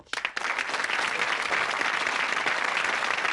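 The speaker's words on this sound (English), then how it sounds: "Let's give a big round of applause to Paul Davis and David Affield, both from Cheltenham College" Studio audience applause for two contestants from Cheltenham College on a 1984 British quiz show, a loud continuous roll of clapping that swells quickly and holds steady.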